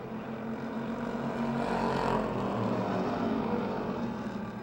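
Race cars on their final lap at Motordrome Speedway produce a continuous broad engine roar at a distance, swelling slightly near the middle. No voices rise above the steady noise.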